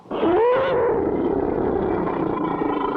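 A giant, monstrous tiger in a 1959 cartoon lets out a loud, sustained roar: one long, rising then falling growl that holds steady for about three seconds, close and alone.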